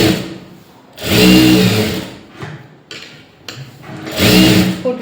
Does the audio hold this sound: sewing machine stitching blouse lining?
yes